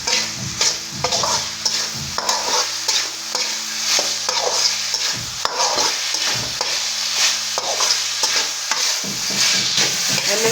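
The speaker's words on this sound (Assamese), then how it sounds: "এতিয়া অকণমান ভালকৈ ভাজি ল'ব লাগিব।" Mixed vegetables stir-fried in a pan, with loud repeated scraping and clattering of a spatula against the pan in an uneven rhythm over a steady sizzle, close up and without talk.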